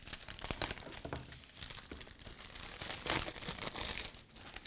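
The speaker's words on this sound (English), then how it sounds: "I'm sure that crinkling is great on the microphone" Old, stiff plastic packaging crinkles and crackles as it is pried open with a hairpin, a close, quiet run of irregular crinkling bursts with no talking.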